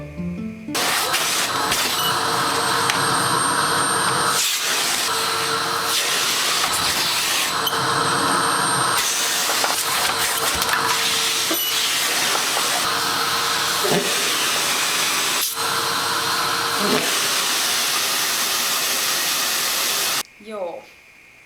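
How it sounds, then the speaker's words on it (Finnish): A household vacuum cleaner roars loud and close with a harsh whine, its pitch and load shifting as it sucks up debris, running continuously before cutting off near the end. "Mulla on ihan sairaan tehokas tapa imuroida kaikkea"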